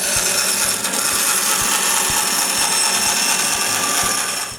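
A power saw whines loudly and continuously while cutting thin plywood pieces to shape in a woodworking shop, a dense steady roar with faint periodic ticking underneath and no talking.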